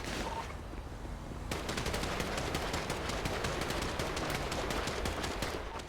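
Sustained automatic gunfire in a FiveM roleplay bank robbery, rapid repeated shots rattling continuously after a brief quieter start.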